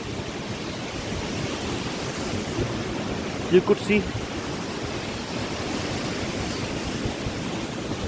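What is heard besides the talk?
waterfall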